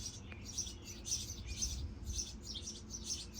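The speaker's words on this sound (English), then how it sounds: "Listen to those birds." Birds chirp in an early June garden in Ohio, with short bright calls repeating in a regular pattern about twice a second, moderately near over a low background hum, with no talking.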